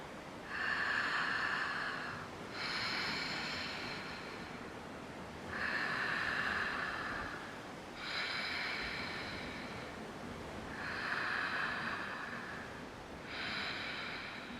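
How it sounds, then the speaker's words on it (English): Ujjayi breathing through the throat with the mouth open, a raspy ha-like hiss in slow alternating inhales and exhales, about six breaths, close and soft. "So we breathe through the throat, creating this ha-like sound."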